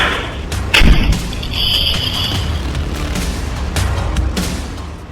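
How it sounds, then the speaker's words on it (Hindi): A deep, heavy boom from a petrol bottle bomb bursts out near the start and gives way to a loud, sustained rumbling roar with no voices. "जोरदार धमाके की आवाज"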